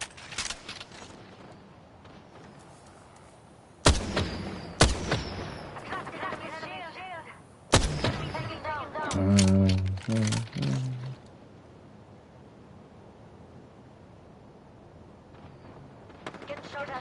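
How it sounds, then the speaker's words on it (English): Gunfire in the battle royale shooter Apex Legends: several sharp bursts of shots stand out at intervals, with quieter game ambience between them and a voice talking at times. "Getting shot at."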